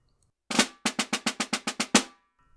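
A snare drum plays a quick run of about ten crisp, evenly spaced strokes without grace notes, the first and last accented, close and clear against near silence.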